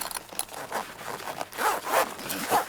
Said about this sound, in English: The zips do catch on these though